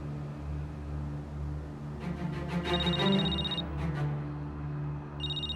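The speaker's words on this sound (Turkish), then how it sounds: "Abi Efraim'in telefon çalıyor." A mobile phone rings in short repeating electronic bursts over a low steady hum, starting partway through and returning near the end.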